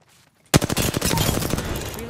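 Rapid SMG fire in Apex Legends, a loud, fast burst of shots starting abruptly after a near-silent moment and continuing steadily until the end.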